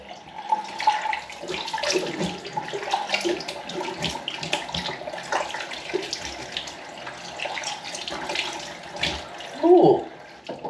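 Tap water runs into a bathroom sink as a face is rinsed after a wet shave, a steady close rush with a brief louder splash near the end.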